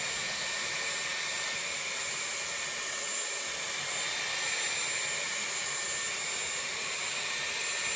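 A Dyson Airwrap with its round brush attachment blow-dries hair, giving a steady, close airflow roar with a constant high whine and no talking.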